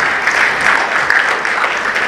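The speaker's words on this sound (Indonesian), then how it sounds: "Kasih tepuk tangan dong sama Pak Mokhtar." Dense, continuous clapping from an audience at a book discussion event, a brief burst of steady applause with no pause.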